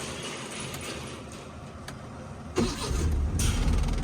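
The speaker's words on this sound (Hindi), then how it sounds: "गाड़ी स्टार्ट हो गई है।" A car engine cranks and catches about halfway through, then settles into a steady mid-pitched idle close by, on a car being fitted with an electric power steering conversion.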